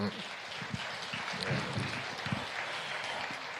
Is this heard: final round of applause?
yes